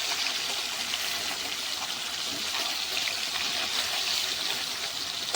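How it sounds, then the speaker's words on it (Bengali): Fish frying in a pan, a loud, dense, steady sizzle with no breaks, heard close up. "এদিকে মাছ ভাজা হচ্ছে"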